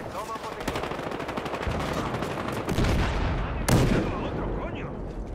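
Shots from a silenced sniper rifle in the video game Battlefield Hardline are heard as dense, loud gunfire with several sharp reports, including a strong crack near the end. Background battle noise continues throughout.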